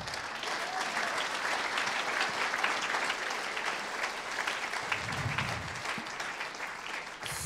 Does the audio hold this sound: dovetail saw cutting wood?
no